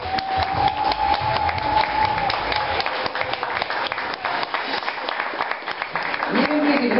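Audience applause at a village citizens' meeting in Rudice, a dense steady wash of clapping that fills the whole stretch, with a voice talking over it.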